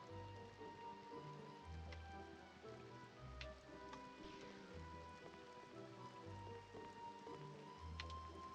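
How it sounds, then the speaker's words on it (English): Rain in the video game Medievil 2, a steady soft patter beneath a game soundtrack with low rhythmic tones, continuous and even in level throughout. "Oh, now it's raining."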